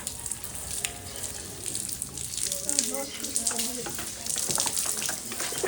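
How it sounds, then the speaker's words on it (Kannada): Water runs steadily with a hissing, splashing texture while people talk over it nearby. "ಸಾಕು ಬಿಡಿ ಸಾಮ್ರಾಟ್ ನೀರು ಬಿಡಿ ಬಿಡು ಸಾಕು"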